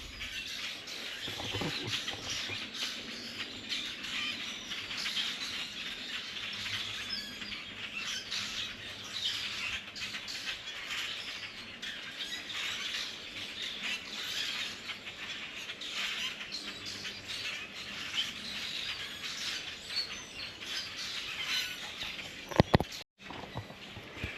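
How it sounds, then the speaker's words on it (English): A large flock of starlings chatters and whistles continuously at a moderate distance along a boardwalk trail, a dense, busy wash of calls. "Looks like they're starlings. That's a lot of them."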